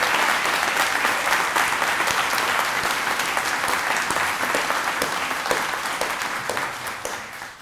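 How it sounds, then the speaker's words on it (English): Sustained, dense audience applause fills a Star Teacher-Student awards ceremony for the class of 2025, loud and steady throughout before tapering slightly at the end. "Let's have one final big round of applause for our STAR teachers and STAR students"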